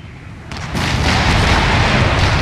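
Cannon artillery volleys in Empire: Total War, a dense continuous rumble of booms that swells louder partway through, with no voices over it.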